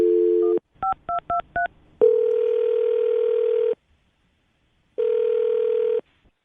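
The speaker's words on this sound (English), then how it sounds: "we're going to call Taryn right now and see if we can get her on the phone" A steady electronic tone, then five quick touch-tone beeps, followed by two long, steady phone tones separated by a silent pause, heard close and clear.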